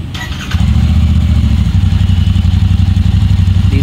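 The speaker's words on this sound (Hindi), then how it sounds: "बाइक को स्टार्ट करते हैं।" A motorcycle engine cranks briefly, catches about half a second in, and settles into a loud, close, rhythmic idle with a steady thumping exhaust pulse.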